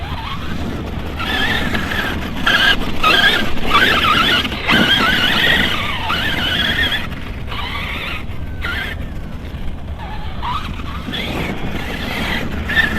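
An ARRMA Nero 6S BLX RC monster truck on 6S LiPo whines and squeals as it drives and skids, with creaking mechanical noise and tire scrub rising and falling over a steady background.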